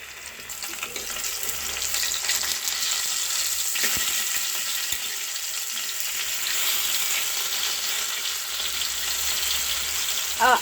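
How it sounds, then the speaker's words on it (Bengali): Two pieces shaped like balls fry in plenty of hot oil, giving a continuous close bubbling sizzle at an even level, with a few small clinks and a brief louder burst at the end; no talking. "তেল গরম হয়ে গেছে আমার, তেলটা আগেই বসিয়ে দিয়েছিলাম। এই 2 পিস ভেজে নেবো এরকম বল।"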